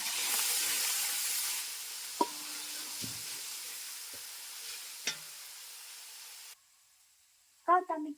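Onions frying in a pan to make beresta for biryani give a steady close sizzle with a few sharp utensil clinks and scrapes, then the sizzle stops and a brief voice follows.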